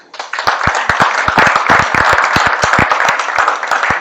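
Audience applause at a blockchain conference in Mallorca: a modest group claps in a crisp, close burst of distinct hand claps that starts abruptly and keeps going at a steady level, with no talking.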